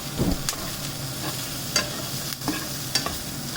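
Potatoes for kanda batata poha are stirred in a pan, a spoon scraping and knocking in distinct strokes every half second or so over a low, continuous sizzle, close and without speech.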